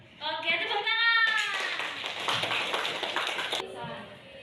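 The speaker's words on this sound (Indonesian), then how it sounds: "Oke, tepuk tangan." A class of students claps hands together in a classroom, a burst of rapid, overlapping claps lasting a couple of seconds right after a brief spoken voice, fairly soft and at moderate distance.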